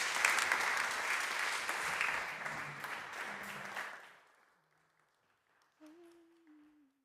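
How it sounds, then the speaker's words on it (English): Warm audience applause for an artist at an event stage, loud and dense for about four seconds before fading out, followed by quiet and a faint sung or hummed tone near the end. "please give a warm applause"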